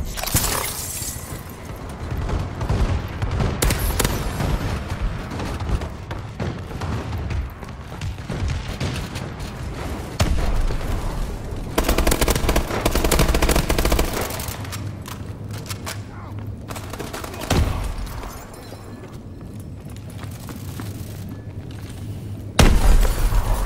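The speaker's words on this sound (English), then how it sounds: "Friendly bombing run clearing the way." Bombing-run explosions from the video game Call of Duty: Advanced Warfare: loud, continuous rolling blasts, crashes and shattering debris with bursts of gunfire, a dense near barrage that swells and ebbs throughout, ending on a sharp heavy boom.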